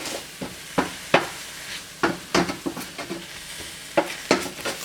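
Spinach wilting in a hot pan, with a soft steady sizzle broken by a series of sharp utensil clacks and scrapes against the pan as it is stirred, about a dozen irregular hits.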